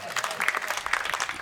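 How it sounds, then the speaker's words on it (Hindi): Audience applause welcoming a poet onto a stage at a Hindi poetry gathering, a brief burst of many hands clapping together, fairly loud and dense throughout. "तालियां बजा के स्वागत करें।"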